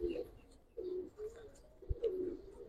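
Giribaz pigeons coo in low, soft, rolling phrases, three close cooing bursts in a quiet loft with a faint knock between them.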